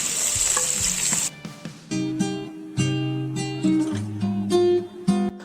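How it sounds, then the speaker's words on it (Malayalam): Finely chopped onion hits hot coconut oil for a Kerala clam roast, starting with a loud burst of hiss. Then comes softer sizzling with intermittent stirring clatter and a few tonal sounds. "തിളച്ച വെളിച്ചെണ്ണയിലേക്ക് നന്നായി ചെറുതായിട്ട് അരിഞ്ഞിട്ടുള്ള നമ്മുടെ സവാള ഇട്ട് കൊടുക്കാം."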